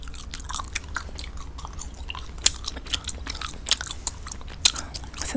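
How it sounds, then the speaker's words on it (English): Gum chewing close to the microphone: soft, wet, irregular chomps and smacks with a few sharper snaps, over a quiet low hum. "I'm gonna chew some gum"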